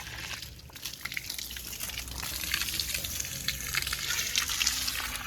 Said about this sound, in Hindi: तो सब में मैं पानी दे देती हूँ।